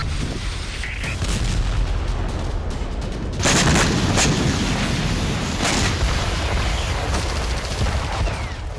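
Heavy artillery fire during Russian strikes in Ukraine: loud, repeated booms and sharp blasts ring out irregularly over a dense, rumbling battlefield din, with several bursts close together.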